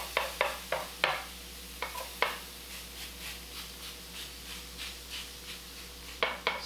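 A veggie hash brown fries quietly in a pan while a spatula scrapes and taps against it in a steady rhythm of short strokes, with sharper clicks at the start and end; no talking.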